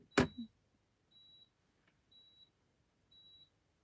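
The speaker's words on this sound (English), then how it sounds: "Got a beeper going off and I have no idea what that is." An electronic beeper sounds indoors, giving a clear high-pitched tone that repeats about once a second, preceded by a sharp thump; the beeps are fairly faint and evenly spaced.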